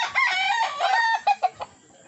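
An 8-month-old stag crows once, loud and close: a drawn-out harmonic call ending in a few short clipped notes, with nothing else in the background.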